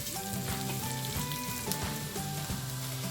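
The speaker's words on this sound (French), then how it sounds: "Donc je vais un peu griller notre riz pour environ 2-3 minutes avant de mettre les autres ingrédients." Rice toasting in a hot pan for a few minutes before other ingredients, a dense crackling sizzle with steady popping, close and loud, overlaid by a faint tonal hum.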